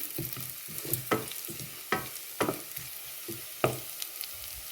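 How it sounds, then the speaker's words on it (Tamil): Onions frying golden in a pan for an egg curry, a soft close sizzle punctuated by several distinct spatula scrapes and taps in an uneven rhythm, fairly quiet with no speech. "இப்போ பொன்னிறமாக வதங்கிட்டுது இப்போ நான் தக்காளி பழத்தை போட போகிறேன்"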